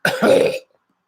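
A single loud, wet cough into a hand, close and sharp, lasting about half a second before silence.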